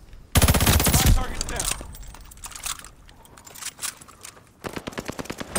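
A Nikita AVT assault rifle in a video game fires a loud, sharp, rapid automatic burst, then scattered quieter shots and impacts, then a second rapid burst near the end.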